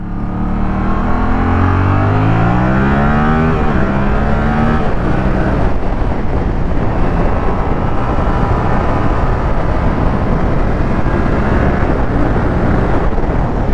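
A 2024 Yamaha R7 inline-twin motorcycle accelerates hard through the gears, its engine note climbing in rising sweeps with shifts, then sustained loud roar and wind rush close by.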